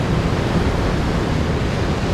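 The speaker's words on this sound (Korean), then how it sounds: "파도가 엄청 급해요" Rough, fast-breaking ocean waves at Imrang beach in Gijang, a steady full roar of surf with wind across the whole stretch, close and loud with no talk over it.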